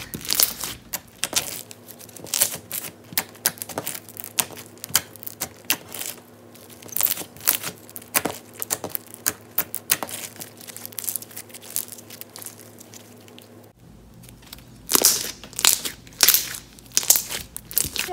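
Floam bead slime, with foam beads mixed into a non-sticky slime, is squished by hand in a quiet room, giving dense, close, irregular crackles and pops throughout with brief pauses and no speech.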